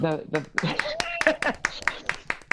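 On a morning talk show, a scattering of sharp hand claps punctuates the room, growing into a quick regular beat toward the end beneath prominent, lively speech.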